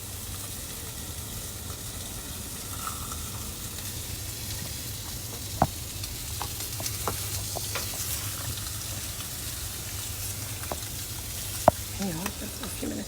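Lamb searing on a grill gives a steady, moderate sizzle with occasional sharp pops and light scraping clicks, close by; no voices.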